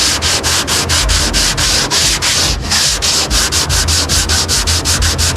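Steady hand sanding on fiberglass car body work, a loud, rhythmic back-and-forth scrape repeating about three times a second, close up, with no talk.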